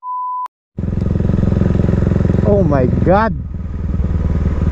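A KTM RC390 motorcycle with an open exhaust pipe runs loud and close with a steady throbbing idle after a short beep, then revs in a few sharp rising bursts before settling back to a rumble, with a voice exclaiming briefly.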